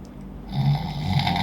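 A person imitates a loud creature roar heard in the distance during a tabletop fantasy game, a low rasping, snore-like growl that swells and holds for about a second.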